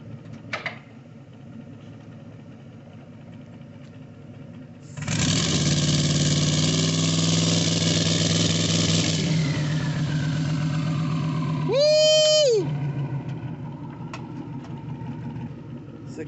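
A car engine idles, then from about five seconds holds a loud, steady high-RPM rev for several seconds, a two-step launch control set at 2,500 RPM. It ends with a brief, sharp tonal burst before settling back to idle.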